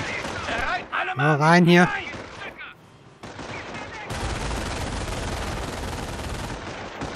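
Gunfire in the Company of Heroes: Tales of Valor World War II strategy game erupts as a sustained, dense barrage of rifle and machine-gun fire after a soldier's voice shouts an order.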